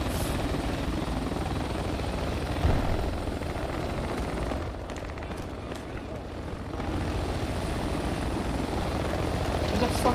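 A helicopter in the video game Project Reality roars overhead, its dense rotor and engine noise steady throughout with a slight dip midway, loud and close, while players talk over it.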